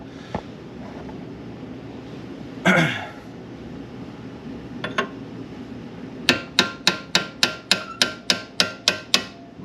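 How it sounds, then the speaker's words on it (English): A hammer strikes a punch to free a suspension part on a Mercedes C55 AMG. About ten crisp, evenly spaced metallic taps come close and fairly loud over a low background hum, after a few scattered scrapes and knocks. "Just use a nice punch, nice and easy hits on it with a hammer, and it comes free like nothing."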